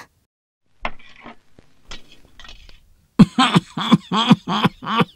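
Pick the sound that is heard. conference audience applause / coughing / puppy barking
coughing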